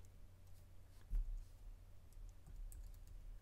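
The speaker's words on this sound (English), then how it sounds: "I just come to text and I just type in art" Typing on a computer keyboard, a few faint, soft key clicks in a quiet room, scattered irregularly and close by.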